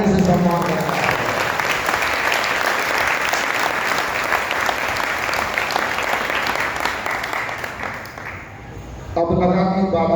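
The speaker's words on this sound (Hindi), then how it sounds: "उन सबके सम्मान में जोरदार ताली से सम्मान किया।" Loud, sustained applause from a large audience at a Jain monk's sermon in Balaghat, steady dense clapping for about eight seconds before it fades out and speech resumes.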